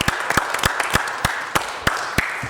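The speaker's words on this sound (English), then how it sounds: "We should all give Wendy Gruhl a round of applause" Scattered applause at a city council meeting, with several distinct, sharp claps standing out over a steady wash of clapping, moderately loud and close.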